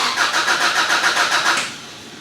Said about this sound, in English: Now when I go ahead and crank the vehicle